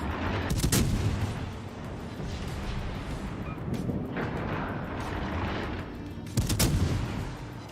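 Warship main guns firing in the naval video game World of Warships Legends, with the battleship Tirpitz in play: heavy booming salvos, two loud blasts near the start and end over a constant rumbling battle background.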